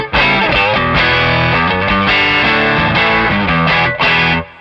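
An electric guitar is played through an overdrive pedal with lots of reverb, giving a loud distorted melodic phrase of sustained notes that ring out and fade at the end.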